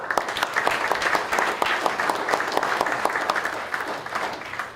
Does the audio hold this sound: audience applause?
yes